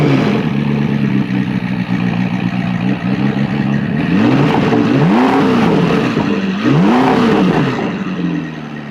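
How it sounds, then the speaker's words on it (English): A rebuilt McLaren engine runs loud and close, then is revved in sharp throttle blips, rising and falling about three times over a steady idle drone. No one speaks. "So rev it up real quick,"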